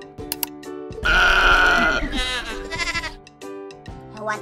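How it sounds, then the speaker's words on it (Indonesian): A cartoon goat bleats loudly in a children's animal-sound quiz. The call is a long, wavering cry followed by shorter bleats, with a few brief sounds before it and after it. "Apa? Kambing?"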